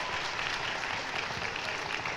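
Audience applause at a speech contest awards ceremony, a steady dense wash of clapping filling the room without a break, fairly loud and with no voices over it.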